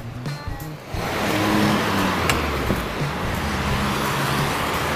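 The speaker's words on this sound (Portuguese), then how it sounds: "Ó o ônibus aí," A city bus approaches and rolls past in busy street traffic, its loud broadband roar swelling and holding steady close by amid the surrounding road noise.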